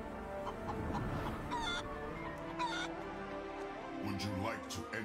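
A cartoon chicken clucks and squawks in a LEGO Ninjago animated intro, short bursts over the theme music and sound effects.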